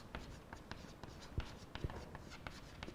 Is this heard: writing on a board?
yes